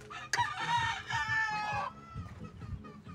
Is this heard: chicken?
yes